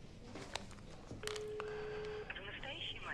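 A landline telephone number is dialed as a rapid string of touch-tone beeps with a steady tone, close and clear, while someone speaks briefly over it.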